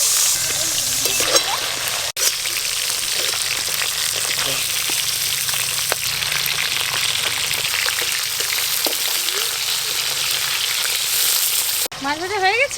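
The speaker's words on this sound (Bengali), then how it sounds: "মুড়োগুলো একটু বাকি ছিল।" Katla fish heads frying in hot oil with a loud, continuous crackling sizzle and occasional stirring scrapes, a brief voice near the end.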